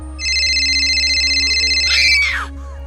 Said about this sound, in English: It's just my phone.